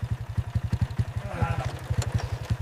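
A motorcycle carrying three riders in a village putters with a steady, rapid chug of engine pulses at a fairly low level, while voices speak over it.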